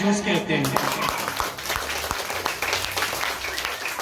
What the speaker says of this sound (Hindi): इसी तरह अंत तक तालियों की गड़गड़ाहट आनी चाहिए